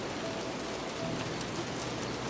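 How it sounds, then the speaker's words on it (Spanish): Torrential downpour of rain beside a small creek, a steady dense hiss of water that fills the whole scene without pause. "viendo cómo la lluvia caía en torrencial aguacero"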